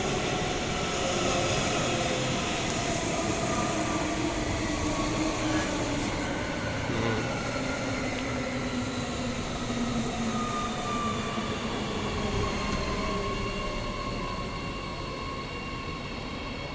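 The last Bayswater train pulling into Lakelands Station, a sustained electric rail rumble with rising and falling tonal motor whine and faint wheel squeal, fairly close and steady throughout, with some people talking underneath.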